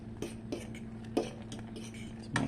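Fork stirring apple pie filling in a bowl, with soft scraping clinks at intervals and a steady low hum underneath.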